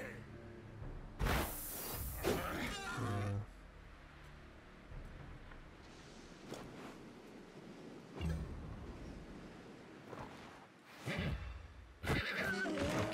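A horse in the video game Wartales neighs in a short burst, with a second whinny later, over a quiet game backdrop and some talk.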